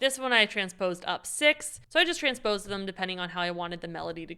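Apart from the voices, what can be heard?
No everyday noise stands out behind the speech.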